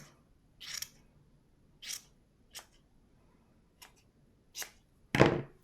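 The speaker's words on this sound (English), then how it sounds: "be careful not to cut that piece just as you are giving the top of the beanie a bit of a trim" Scissors snipping at the top of a handmade yarn beanie on a Christmas gnome craft, six short crisp cuts spaced irregularly, the last one loudest, with a quiet background and no talking.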